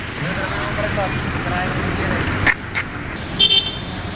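A vehicle horn honks briefly at a busy port, a couple of short toots rising over steady engine and crowd noise, with people talking nearby.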